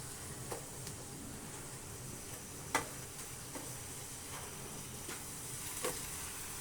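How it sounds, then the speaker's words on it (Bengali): Whole and ground garam masala with spices fry in a pan for dry meat bhuna, a steady faint sizzle broken by occasional light ticks of the stirring spoon, with no talk. "এখন মশলাটা ভালো করে কষিয়ে নেব"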